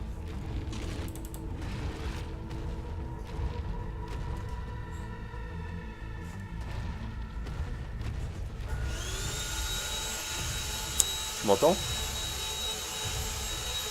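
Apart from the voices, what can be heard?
vacuum cleaner running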